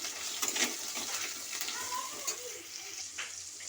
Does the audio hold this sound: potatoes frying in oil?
yes